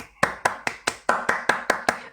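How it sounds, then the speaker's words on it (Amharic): One person claps hands nine times in a quick, even rhythm, each clap sharp and close. "እኔ አጨብጭብልሃለሁ"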